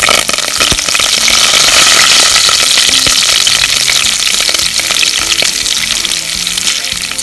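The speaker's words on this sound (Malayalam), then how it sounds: "കുറച്ച് കാന്താരി മുളകും കൂടെ എണ്ണയ്ക്കകത്ത് ചേർക്കണം. കറുവേപ്പില ഇടുക." Bird's eye chillies and curry leaves sizzle loudly in hot oil, a bright continuous crackling hiss that stays close and strong throughout, with scattered pops and faint stirring knocks.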